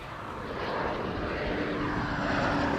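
A large airliner arriving to land at Amsterdam Schiphol Airport roars steadily overhead, a loud, continuous broadband engine rumble that swells slightly as it approaches, with no talking.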